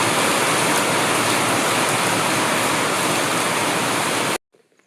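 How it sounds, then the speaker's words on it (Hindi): Heavy rain pours down hard in a loud, dense, unbroken roar after a thunderstorm with lightning, then cuts off abruptly near the end. "बहुत तेज़ वाली बारिश जो है शुरू हो गई थी"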